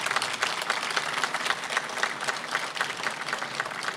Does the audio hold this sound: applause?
yes